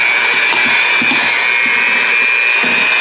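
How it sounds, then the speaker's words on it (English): Blender mixing pumpkin into a creamy cheesecake filling, a steady, loud motor whir with a high whine running unbroken throughout, with no talk. "we are going to blend that together until it's nice and creamy and kind of smooth."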